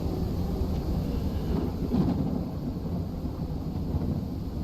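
Heavy thunderstorm from a video game's weather system, a continuous low rumble of thunder and rain that stays loud throughout with a slight swell in the middle, with no voices.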